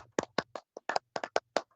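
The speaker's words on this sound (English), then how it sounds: "a big round of applause to Fox and Old School Blue" A small group claps briefly in a live radio phone-in studio, with about a dozen sharp, close, slightly uneven hand claps spread over under two seconds and no talking.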